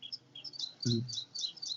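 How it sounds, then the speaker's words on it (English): Birds chirping nearby, a string of quick high tweets repeating in short bursts, with a brief low murmur from a person partway through. "I can hear the birds."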